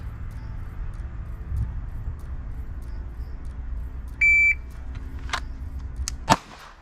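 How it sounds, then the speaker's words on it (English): A short electronic shot-timer beep sounds once over a low background, followed by a loud sharp Staccato CS pistol shot fired from the hip and a few fainter clicks. "You're on your own at the beep."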